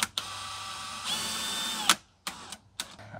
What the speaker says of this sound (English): I'm just going to get them not even snug with the screw gun